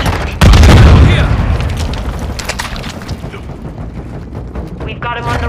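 A grenade detonates in Call of Duty Modern Warfare 2 multiplayer, a loud close boom that rumbles and fades over several seconds, with gunfire and game voice callouts around it.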